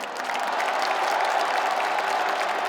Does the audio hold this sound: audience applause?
yes